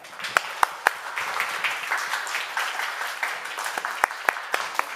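Audience at a Udichi New York cultural program of Bangla song and dance clapping in a moderate, uneven round, with several sharp louder claps standing out close by.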